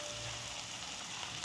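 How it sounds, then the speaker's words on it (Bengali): Potatoes and onions fry together in a pan with oil, giving a steady, close, moderately quiet sizzle that holds evenly through the short stretch with no voices. "আলু দিয়ে একসঙ্গে ভেজে নেব আলু আর পেঁয়াজ"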